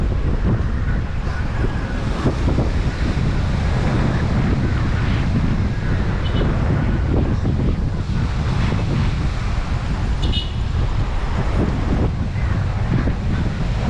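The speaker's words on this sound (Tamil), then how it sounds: "காற்று பாருங்கள் எப்படி வீசுது" Strong wind roars steadily across the microphone in Colombo, Sri Lanka, ahead of rain, a continuous loud rumbling buffet with gusting texture throughout.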